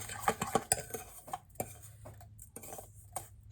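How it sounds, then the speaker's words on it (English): A utensil scrapes and clicks against a bowl while chunky mermaid spray ingredients are stirred, a run of quick knocks at first, then slower taps and scrapes, close up with no talk. "Just continue mixing it."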